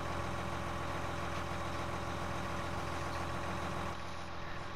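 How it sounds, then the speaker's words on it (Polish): An articulated tractor engine idles in the Farming Simulator 19 video game, a steady low diesel rumble with a constant throbbing hum that holds evenly throughout and shifts slightly near the end. "Co najlepsze, to jest ciągnik przegubowy."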